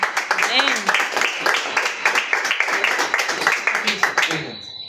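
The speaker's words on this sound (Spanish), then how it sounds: "Vamos a dar un fuerte aplauso a Dios." Congregation applause at a Spanish-language church sermon, with dense, continuous clapping lasting several seconds alongside cheering voices, then fading out near the end.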